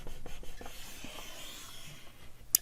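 Scoring a crease into a manila folder with a tool, a faint dry scraping drawn several times in a quiet room, ending with a sharp tap.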